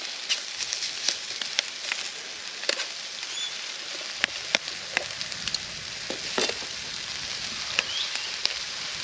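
Food spitting and popping in a hot pan while frying outdoors on a breakfast trip, with a steady sizzle broken by frequent sharp, irregular pops close by, no talking.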